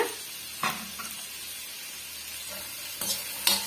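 Grated coconut being sautéed in a pan for a raw-banana vegetarian fish-style kulambu, with a steady soft sizzle and a few sharp spatula scrapes and taps spaced out, close by.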